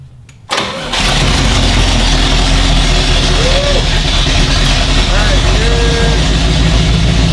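A lifted BMW E34 off-road car's engine catches after a brief quiet start and then runs steadily and loud close by, with people talking over the sustained engine drone.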